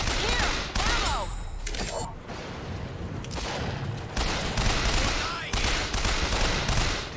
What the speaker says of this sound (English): Take out a sniper with a machine gun from long range.